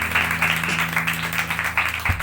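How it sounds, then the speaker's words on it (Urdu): A church congregation claps together in a steady, dense patter of applause, loud and close, lasting a couple of seconds over a sustained low hum. "تالیاں بجائیں ذرا اپنے لیے"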